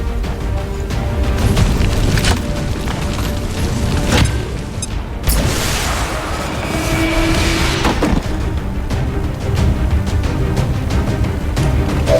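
A grenade goes off in XCOM 2 on veteran ironman difficulty. The sharp blast cuts through the dense, steady game soundscape about midway, with a lingering crackle after it.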